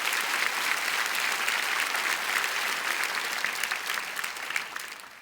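A church congregation at a prayer gathering gives a big round of applause to bless a family, steady dense clapping that fills the room and slowly tapers off toward the end.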